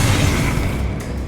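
The Incendio fire spell in Hogwarts Legacy goes off as a loud, dense whooshing boom. It stays steady for about a second and then thins out.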